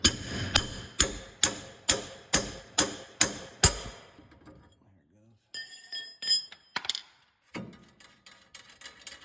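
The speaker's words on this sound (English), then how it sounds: "get your ball joint separator and" Ball joint separator being hammered on a Kawasaki Mule, eight sharp, evenly spaced metallic strikes ringing loudly, followed by quieter clinks, tool handling and a voice.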